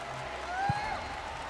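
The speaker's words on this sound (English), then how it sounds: "Everybody give him a big round of applause." A large crowd at an M5 Championship esports match applauding steadily in the distance, a soft wash of clapping with a brief low thump partway through.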